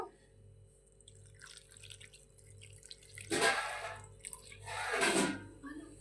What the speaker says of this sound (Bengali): এবার এর মধ্যে আমি একটু জল দেব